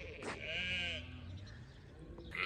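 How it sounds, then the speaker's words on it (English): Sheep crowding a farm gate, expecting to be fed, bleat in a quiet outdoor setting: one clear, drawn-out bleat from a nearby animal, with a shorter bleat following at the end. "the sheep think they're being fed. And they all go mental and run to the gate and make lots of noise"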